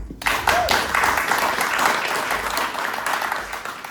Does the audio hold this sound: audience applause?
yes